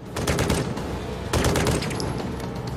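Heavy gunfire in an action film shootout with robbers: dense automatic bursts and sharp shots, loud and continuous, with a fresh volley partway through.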